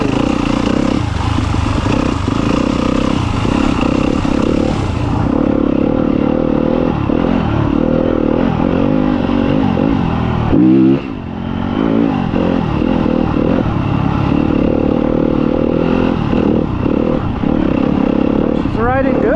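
A dirt bike rides through cold morning woods: a loud, close engine drones and revs unevenly with clattering and scraping from the trail, and a voice can be heard faintly under the noise.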